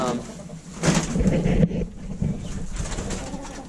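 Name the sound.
pigeons cooing in bird house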